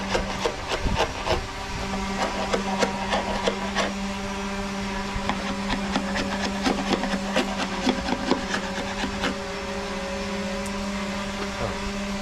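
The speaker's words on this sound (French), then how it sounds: "ça part beaucoup mieux avec le ciseau à bois." Wood chisel scraping old antifouling off a boat hull during haul-out maintenance, making repeated rough scraping strokes over a steady mechanical hum, close and continuous.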